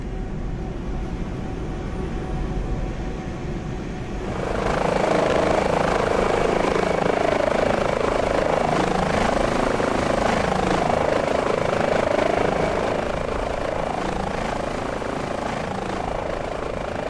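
An Airbus H145 helicopter in Microsoft Flight Simulator spools up its engines: after a few seconds of quieter cockpit hum, a loud, steady turbine and rotor roar sets in and holds to the end, without talk.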